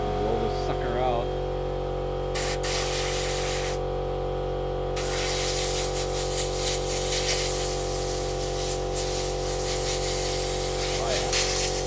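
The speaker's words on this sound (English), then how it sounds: "we'll just compressed air this out" Compressed air blowing out a dirty part during exhaust and maintenance work, a steady loud hissing spray that holds through the clip with brief breaks, close by over a constant background hum.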